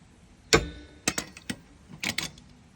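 A wrench with an extension bar turns a broken oil cap on a Honda PCX160 scooter, producing a few sharp metallic clicks and ticks spaced irregularly, close by and fairly quiet between them.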